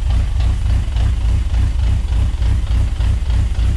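A car engine idles at a little under 1,000 RPM with a low, steady rumble and a regular throbbing pulse, loud and close, with no voices.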